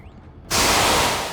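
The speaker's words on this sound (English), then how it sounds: "What you just heard was a sprinkler," A sprinkler in the Dead Space (2008) video game bursts on suddenly as a loud, close, broadband spray hiss after a faint start, then fades slightly.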